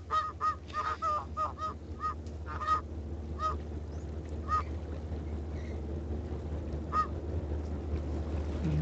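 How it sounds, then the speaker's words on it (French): Ducks pushed around in the video game Thirty Flights of Loving give off repeated honking quacks, clustered in quick bursts over the first three seconds and then scattered more sparsely over a steady low background hum. "On peut pousser des canards, c'est toujours drôle."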